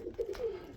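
Pigeons cooing in a loft, a soft low throaty coo repeating briefly, close and gentle with no talking.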